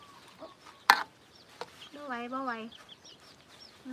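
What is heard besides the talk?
chickens clucking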